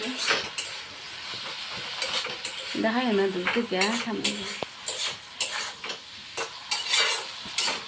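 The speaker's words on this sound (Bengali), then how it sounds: "এখানে কিন্তু আমি করছি হচ্ছে কি আলু ভাজা করছি" Potatoes frying in a pan with a little salt and turmeric, a steady sizzle broken by repeated scraping and stirring clinks of a utensil against the pan, with a voice briefly speaking midway.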